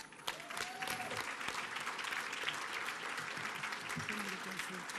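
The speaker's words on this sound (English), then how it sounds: "Please join us in a big round of applause as they join us on stage." Sustained applause from a gala audience at the Halls of St George, dense steady clapping throughout with a brief voice near the start and low murmur underneath.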